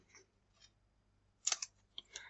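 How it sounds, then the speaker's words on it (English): Scissors snipping through foam pieces while making a die-cut easel card, a few short crisp cuts close to the mic near the end after a quiet stretch with faint rustling. "then I can just cut them down."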